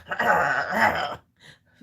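A toddler lets out one long, throaty growl lasting about a second, then a shorter, softer rumble after a brief pause, close and alone.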